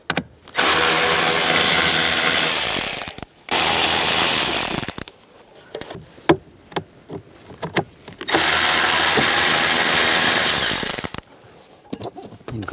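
An 8mm socket on a power tool removes the blower motor bolts of a 2004-2009 Toyota Prius, with two long loud bursts of whirring and ratcheting separated by a stretch of clicks and handling clatter.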